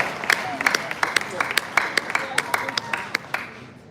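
Scattered hand claps from a lecture audience greeting a pro-poor campaigner at a land conference in Lagos, sharp separate claps in an uneven rhythm over roughly four seconds, moderately loud with crowd murmur beneath.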